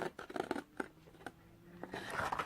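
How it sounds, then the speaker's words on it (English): Scissors snipping through a paper Halloween mini double flip book along score lines, a few quick, quiet close-up cuts in an otherwise still room. "Cut right up to that third score line."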